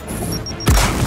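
A frag grenade detonates in the video game Gears of War 4 with a sudden loud, deep boom that rolls into a rumbling tail, following a quieter stretch of game ambience.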